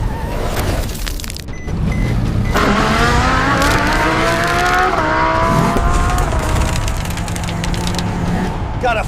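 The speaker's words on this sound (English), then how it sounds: "Drivers, start your engines." Race car engines start and rev at the start of a cartoon superhero car race, with rising, whining revs layered together, tire squeal and a voice calling out over the roar.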